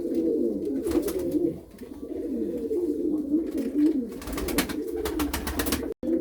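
Arap kemer pigeons coo repeatedly in a loft, soft rolling calls close by with a few brief flutters and knocks.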